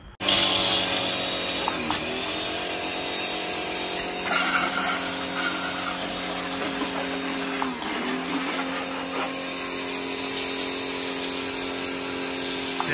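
A Costar high pressure car washer pump runs loud and steady for the whole stretch, a harmonic motor whine with a broadband hiss of water spray blasting dirt off a car, its pitch dipping briefly a few times as the nozzle load changes, with no talk.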